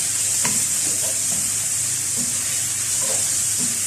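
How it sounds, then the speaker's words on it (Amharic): Garlic fries in a pan for a chicken stew, giving a steady close sizzle with a few soft scrapes of stirring that recur throughout. "ከዛ ነጭ ሽንኩርቱን ጨምሬ ለአንድ ለ5 ደቂቃ አብሬ እንደዚህ ጠብሰዋለሁ።"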